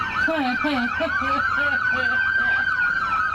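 An ambulance siren wails loud and close, its rising and falling cycle repeating quickly over steady traffic noise.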